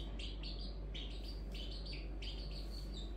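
Chicks keep chirping in a steady series of short high tweets, repeating every half second or so over a constant low hum, fairly faint and with no talk.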